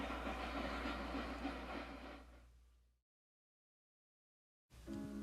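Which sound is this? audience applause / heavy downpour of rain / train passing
train passing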